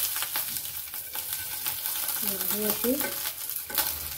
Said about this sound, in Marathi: सर्व बाजूने ही मिरची आपल्याला अशी भाजून घ्यायची आहे